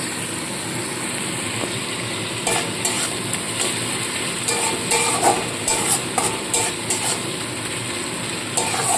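Ginger and garlic paste fries in oil with Kashmiri chilli powder, making a steady close sizzle interrupted by a series of sharp stirring scrapes and clacks of a spoon against the pan in the second half.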